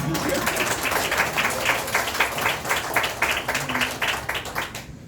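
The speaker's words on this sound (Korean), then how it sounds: "조금 박수 소리가 마음에 안 들지만" Live audience clapping at a Liberty Korea Party gathering at a church, a dense, steady wash of many hands filling the space for about five seconds, moderately loud with no voices on top.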